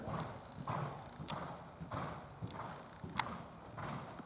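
A horse's hooves clip-clop in a steady, even rhythm during a riding lesson, a faint repeating beat of soft thuds with occasional sharper clicks, heard from a distance.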